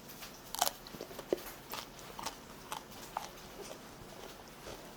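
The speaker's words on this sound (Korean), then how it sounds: "제일 끝쪽이 바삭바삭 할 거니까 한번 먹어볼게요" Crispy roast chicken thigh being bitten and chewed, with a few sharp crunchy bites and softer chewing clicks close to the mic in a quiet room.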